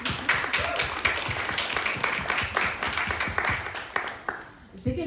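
An audience in a hall at a book launch claps warmly and steadily, dense applause holding for several seconds before thinning out, with no talk over it.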